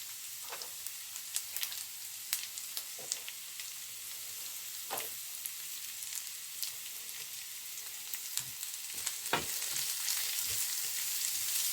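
Snake gourd frying in a pan over low heat, a steady soft sizzle with scattered crackles and pops throughout, no voices.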